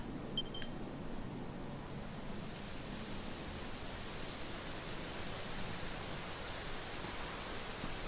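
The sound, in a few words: rain falling in video game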